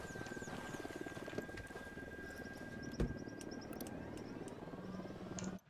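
A helicopter in the Ghost Recon video game, set in Bolivia, gives a steady rotor drone with a rhythmic chop, close and continuous throughout, with a brief thump near the middle and no talking over it.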